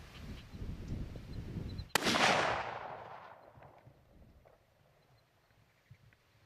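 A single loud crack from a deer hunting rifle in the Kansas outdoors, a sharp report followed by a long rolling echo that fades over several seconds, with quiet rustling after.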